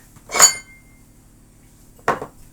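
Dishes and kitchenware clink twice in a cooking class preparing cold fish and seafood appetisers, two short separate clatters as the workspace is tidied, with a quiet pause between them and no talk.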